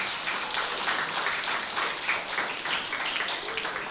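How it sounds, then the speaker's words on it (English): Steady, even applause from the crowd at a primary school spelling bee, a continuous wash of many hands clapping for the whole stretch. "So I'd like us to give Jays a round of applause."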